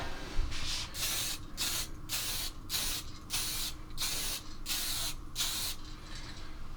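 Spray paint hisses over N gauge model railway track indoors in thin coats: about eight short, even bursts in a regular rhythm, close and fairly loud, separated by brief pauses.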